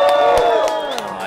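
Crowd at a live music show at New Flow Factory cheering and whooping in a steady, close wash of noise, with a sustained musical tone ringing underneath.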